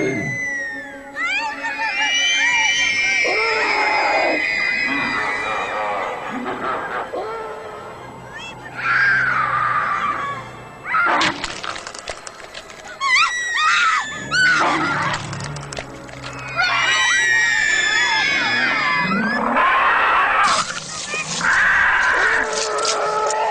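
Children in a Christmas Krampus horror audio drama let out loud, shrill, sustained screams in several long waves, with brief dips between outbursts and frantic scuffling underneath.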